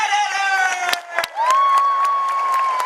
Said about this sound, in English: Everybody put your hands together, and please don't even think about stopping clapping